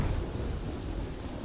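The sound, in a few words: thunderstorm and rain in the show The Bad Batch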